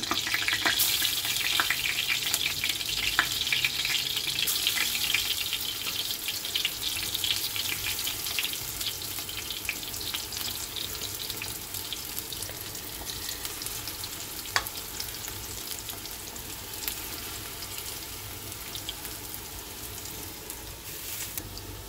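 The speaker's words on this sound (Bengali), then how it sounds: "এখন এই বড়া ভেজে নিচ্ছি।" Red lentil fritters deep-frying in oil with a constant bubbling sizzle, close by, alongside intermittent clinks and a brief running-water sound.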